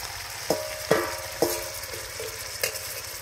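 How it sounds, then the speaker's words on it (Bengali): Shrimp frying in oil in a village kitchen: a soft sizzle broken by several sharp spatters and utensil knocks, spaced irregularly, moderately close and without speech. "চিংড়ি মাছ ভাজলে গেজা হয়।"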